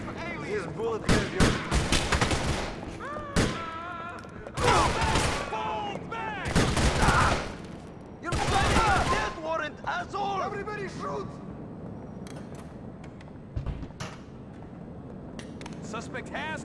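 Gunfire rings out in GTA 4, with loud bursts of shots over several seconds and shouted voices mixed in, followed by quieter scattered noise.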